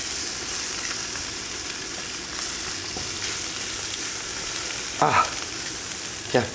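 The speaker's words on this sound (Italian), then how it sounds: "la giro, gioco un pochetto con girare la padella" Spaghetti all'assassina fries in a pan with a steady, close sizzling hiss, broken by a few louder scraping swishes as the pan is turned near the end.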